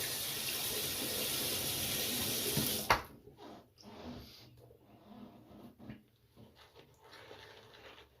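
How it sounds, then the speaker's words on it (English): Water runs steadily from a tap into a sink while shaving lather is rinsed off, a close, even rush that stops abruptly about three seconds in, followed by quiet splashes and small handling sounds. "I'm going to rinse off a little bit"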